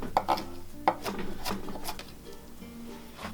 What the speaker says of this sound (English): we're going to chop our onion really small too